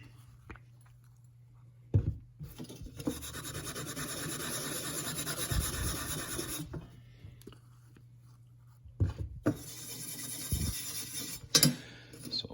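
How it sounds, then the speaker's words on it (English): Rusty chrome being buffed and polished by hand, several close rubbing and scrubbing passes, two longer stretches and shorter strokes between them, over a low steady hum. "You can try buffing that out a bit more, but we'll go ahead and hit this spot here too while we're at it."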